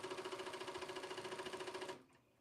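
An embroidery sewing machine stitches fabric in a fast, steady mechanical rhythm, running close and clear before stopping abruptly near the end.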